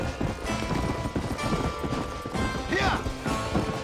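Galloping horse hooves in the Red Dead Redemption video game, a quick, rhythmic clip-clop that runs close and steady throughout, with a brief whinny near the end.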